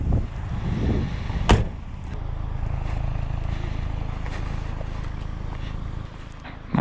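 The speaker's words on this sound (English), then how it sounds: "the door feels heavy at this angle" A car door opens on the steep Winnats Pass road in Derbyshire's Peak District, giving one sharp clunk early on against a steady outdoor rumble of idling engine and wind.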